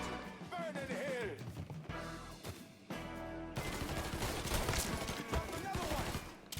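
Gunfire in the video game Mafia III: repeated rapid shots and bursts of automatic fire, loud and close, with brief gaps and shouting voices mixed in.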